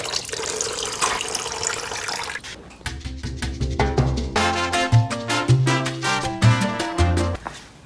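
Old coolant drains from a GSXR motorcycle's reservoir through an undone bottom clamp, first as a steady hissing trickle, then as a gurgling, splashing flow into a container, rising in pitch as it fills, with no talk over it.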